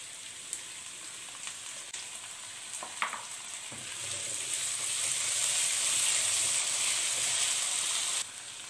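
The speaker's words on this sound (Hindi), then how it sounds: "वेजिटेबल अच्छे से फ्राई हो जाए" Mixed vegetables with cubed capsicum frying in a pan give a steady, bright sizzle that builds and swells for several seconds, then drops back sharply near the end, close and with no voices.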